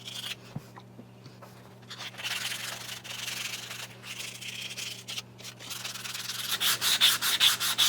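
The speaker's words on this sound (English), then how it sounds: "I've got some 220 3M paper here, and I'm just going to use some of this lubricant" Steady rhythmic rubbing of 220-grit sandpaper wet sanding a rifle recoil pad with lubricant, close up, with strokes growing faster and louder toward the end over a low background hum.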